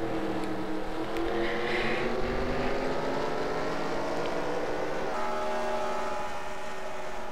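Race cars in a stock-car racing video game at Watkins Glen sweep past in the distance, a blended engine drone rising and falling steadily without a break.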